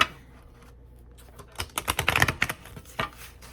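A quick burst of crisp riffling clicks as playing cards are shuffled nearby, followed by a few softer taps.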